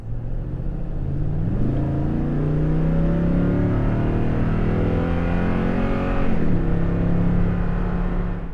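Toyota Tundra pickup with dual exhaust revving steadily and loud, the engine note climbing and falling in pitch over several seconds, close by with no voices.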